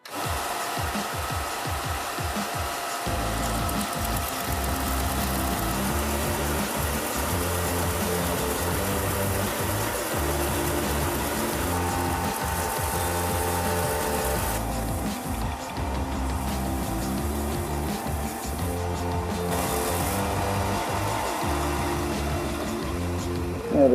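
A power tool cuts through plastic Rubik's cube pieces during a rocket model build: a few sharp clicks, then a steady, loud motor whine that runs continuously with slight shifts in pitch.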